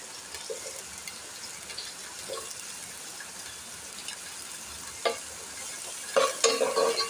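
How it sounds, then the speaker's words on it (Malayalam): Vegetables with carrot sautéed for upma hiss softly in a pan under intermittent stirring, with louder scraping and clattering strokes near the end. "ഇനി നമുക്ക് ഇതൊക്കെ ഒന്ന് വഴറ്റിയെടുക്കാം"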